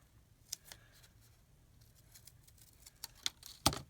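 Scissors snip around a paper decoration on an Easter egg, a few quiet, sparse clicks and cuts with a sharper snip near the end, close by with no talking.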